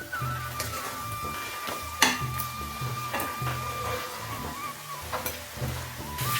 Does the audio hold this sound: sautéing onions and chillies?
yes